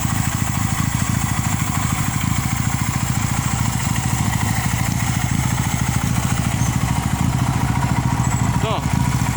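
A 1973 Honda CB175 two-cylinder motorcycle with twin exhausts runs steadily at close range, giving a dense, even, throbbing idle with no talk over it.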